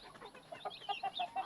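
Mother hens tending a brood of chicks cluck softly and repeatedly at close range in short bursts, with faint higher peeping mixed in and no talk.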